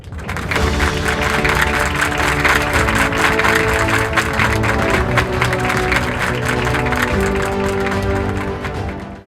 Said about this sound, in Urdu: اپنی بھرپور تالیوں میں استقبال کیجئے